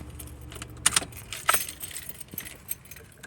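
Keys jangle in a series of bright metallic rattles as a car is shut off for the night inside an SUV, close and fairly loud over a quiet interior, with no talking.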